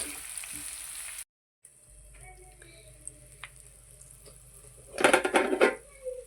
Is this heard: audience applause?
no